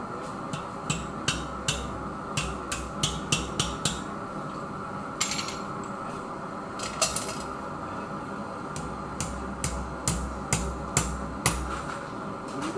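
A hammer rings sharply on hot stainless steel as a letter opener is forged at a blacksmith guild demonstration. The blows come in quick bursts of bright metallic strikes with short pauses between the bursts.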